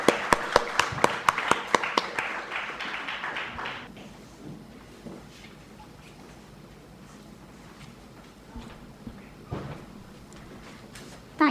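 Audience applause at a lecture on technology and India's economic growth: a burst of clapping that fades out after about four seconds, leaving a quiet hall with faint shuffles.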